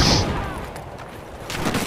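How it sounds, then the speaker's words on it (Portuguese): A grenade blast in Battlefield 4 multiplayer, a loud burst of explosive noise that fades into a rumbling tail, with a second burst of gunfire and noise swelling near the end. "Vou arriscar a granada."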